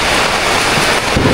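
Heavy rain pours in a dense, loud, continuous roar during Hari Raya, close and steady with no pauses and no voices.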